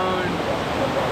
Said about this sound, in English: See this is water is moving very nicely.